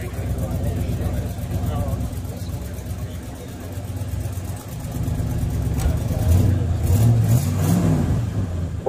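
A 1950s–70s Mopar convertible engine runs steadily and revs up toward the end, loud and close, with low rumbling throughout.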